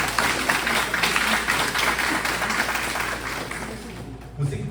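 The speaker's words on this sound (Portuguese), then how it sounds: "Você pode dar um forte aplauso ao Senhor" Church congregation applauding at a Sunday service, a steady dense wash of many hands clapping throughout, fairly loud and close, easing slightly toward the end.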